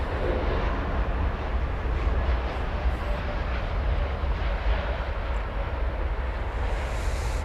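A jet airplane taxis across DFW Airport toward the east-side runways, a steady distant engine rumble and whine holding evenly throughout without voices.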